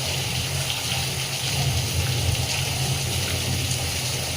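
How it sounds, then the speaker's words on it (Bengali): Heavy rain pours down in Morbi, a steady, dense rushing wash of water that stays loud and even throughout with no voices. "আওয়াজটা বৃষ্টির আওয়াজটা তো শুনতে পাওয়া যাচ্ছে নিশ্চয়ই"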